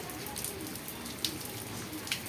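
Steady rain falling outdoors during a downpour with thunder about, a soft continuous hiss with a few sharper drops landing nearby, faint and even throughout.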